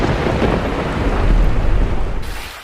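Loud rolling thunder rumbles through a thunderstorm with steady rain hiss, the deep roar swelling in the middle before cutting off abruptly near the end.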